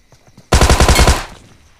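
A loud, close burst of automatic AKM rifle fire in PUBG/BGMI, about ten rapid shots in under a second, ending in a short decaying echo after faint footsteps.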